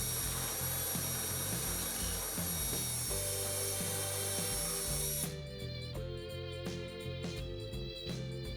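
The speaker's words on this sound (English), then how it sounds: "barrel trim both ends of the blank until the brass shows." Barrel trimmer cutting both ends of a wooden pen blank with brass tube held in a vise, a steady loud whirring grind that shifts into a pulsing, chattering cut partway through, with no voices.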